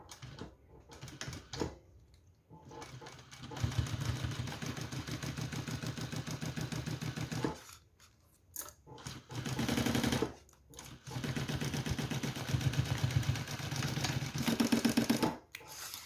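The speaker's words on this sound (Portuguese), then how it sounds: "só vou passar uma costura aqui, que aí eu já fixo essa primeira dobra" A sewing machine stitching a fold on a fabric pouch, running in close, rapid mechanical bursts of stitching separated by short pauses and stops.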